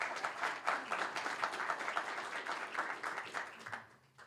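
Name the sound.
audience applause for a judge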